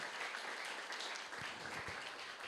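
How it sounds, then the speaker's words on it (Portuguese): A church congregation claps together in praise during a Portuguese-language worship service, the applause steady and fairly faint, filling the space throughout without any voices breaking through. "Podemos aplaudir o Senhor Jesus por isso?"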